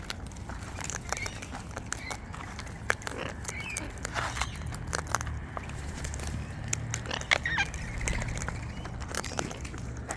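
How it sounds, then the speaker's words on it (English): A pet bird chewing on a wristwatch, producing a run of small close-up crunching, clicking and crackling bites over several seconds against faint background noise. "What are you chewing on my watch for?"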